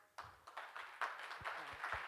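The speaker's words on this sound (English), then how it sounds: "Applause." Audience applause at a panel session on low-carbon value chains, a few scattered claps building into steady clapping across the room at moderate distance.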